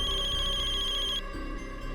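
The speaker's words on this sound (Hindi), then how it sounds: "कौन फोन कर सकता है?" A phone's electronic ringtone trills close and clear for a moment in a crime drama scene, then cuts off, leaving a low musical bed with no speech.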